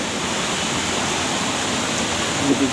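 Steady broadband rush of a waterfall in Keumumu Seberang village, a continuous close roar of falling water with no other clear sounds.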